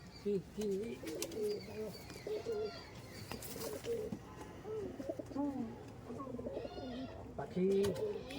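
High flying teddy pigeons coo and burble repeatedly at close range, several birds overlapping, with occasional chirps and someone talking now and then.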